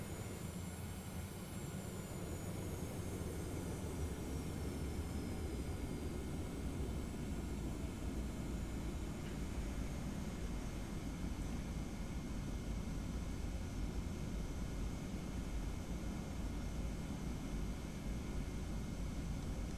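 A Boeing 717 taxiing out to the runway at MSP in a flight simulator game, a steady jet engine whine and broad rumble droning evenly throughout, with no talk.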